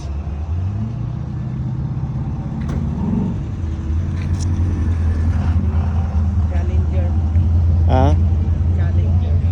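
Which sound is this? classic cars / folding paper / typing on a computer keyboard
classic cars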